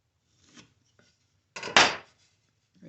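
A pencil draws marking lines on a wooden board for a bird house, giving short, close scratchy strokes separated by quiet pauses, with one louder rubbing stroke.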